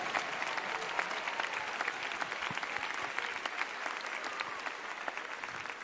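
A church congregation applauding its pastor, sustained lively clapping with crisp individual claps standing out from the crowd throughout.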